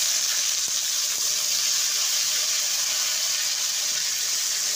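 Pumpkin pieces and potatoes fry in a pan, giving a steady, even sizzle that continues close and unbroken throughout.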